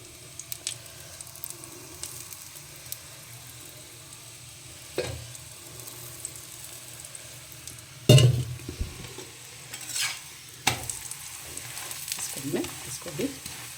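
Methi paratha frying in oil on a pan, a soft continuous sizzle close by with occasional louder scrapes and a sharp clatter partway through as the pan and spatula are handled.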